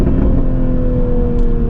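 Modified 2021 Toyota Supra with a turbocharged engine pulling steadily while driving, a loud close-up drone with a sustained engine tone and a faint whistle near the end; no voices.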